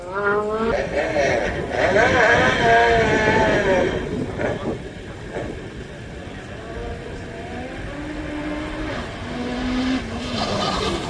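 A race car on the Craigantlet hillclimb course, running a new non-Peugeot engine, roars loudly with tires squealing and engine note rising and falling, while a commentator talks over it throughout.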